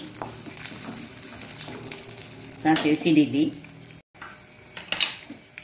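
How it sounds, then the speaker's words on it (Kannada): Mustard seeds splutter in hot oil, sizzling and crackling steadily, with brief popping bursts and a short rattle of stirring partway through. "1 ಚಮಚದಷ್ಟು ಸಾಸಿವೆ ಸಿಡಿಬೇಕು."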